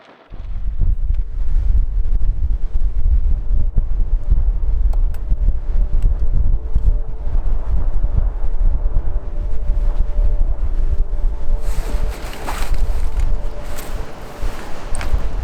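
Storm wind in Ireland roars loudly and continuously against the microphone, a dense rumbling buffet with gusts, heavier bursts of hiss near the end, and no talking.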